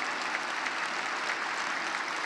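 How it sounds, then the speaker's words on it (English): A large graduation audience at a John Jay College commencement ceremony applauds faculty and staff with a steady, dense wash of clapping, sustained and even throughout. "How about another round of applause for all of our faculty and staff who've supported our graduates?"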